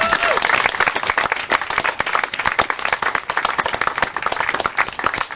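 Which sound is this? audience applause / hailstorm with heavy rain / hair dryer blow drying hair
audience applause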